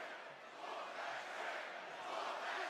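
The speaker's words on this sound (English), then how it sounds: "And you can hear the crowd" Wrestling arena crowd during a SmackDown match involving Trick Williams and Carmelo Hayes, a steady, dense roar of many voices chanting together at fairly even loudness throughout, distant and broad with no single voice standing out.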